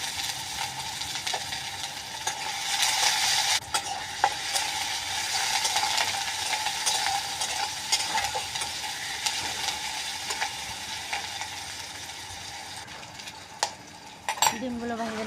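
Onions and dry chillies fry in oil in a wok, giving a continuous loud sizzle with occasional clinks and scrapes of a utensil stirring against the metal.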